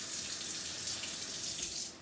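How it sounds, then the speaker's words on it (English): Tap water runs steadily into a sink while a dental instrument cassette is rinsed, a continuous even hiss of flowing water that starts to fade at the very end. "Rinse it with tap water."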